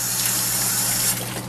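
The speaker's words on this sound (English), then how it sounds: "I'm gonna add a little bit more water" Water pouring steadily into a container holding an expanding coco coir brick for a basement salad garden, a continuous close gushing splash that swells slightly near the end.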